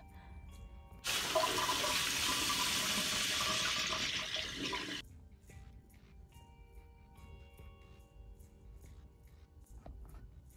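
Water gushes from a tap in a video game for about four seconds, a loud, bright, hissing flow that stops abruptly, leaving faint background ambience.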